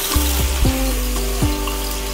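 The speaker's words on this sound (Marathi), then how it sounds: "तवा गॅसवरती ठेवलेला आहे, तो छान गरम झालेला आहे. थोडंसं पाणी टाकून नॅपकिनने पुसून घ्यायचं आहे." Water sprinkled onto a hot tawa over a gas flame and wiped with a napkin while making rava dosa, giving a steady watery hiss with a few squeaky sweeping strokes, close and continuous, with no talking.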